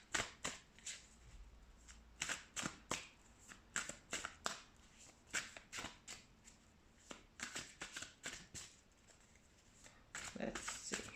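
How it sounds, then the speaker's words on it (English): Repeated crisp riffling and snapping of tarot cards being shuffled by hand, in quick irregular bursts, close and fairly quiet. "Let's shuffle some tarot cards"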